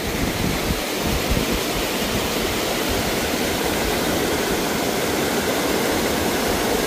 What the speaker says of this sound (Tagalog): Ang ganda ng ilog dito.